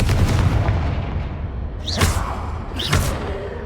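Confringo fire spell in the Hogwarts Legacy video game, two booming blasts about a second apart with bright whooshing bursts, over a dense rumbling game soundscape.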